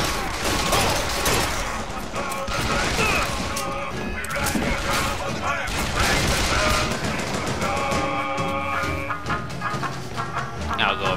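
Rapid bursts of gunfire and crashing impacts from a Bioshock Infinite firefight rattle on continuously, loud and chaotic, with layered shots and clattering debris throughout.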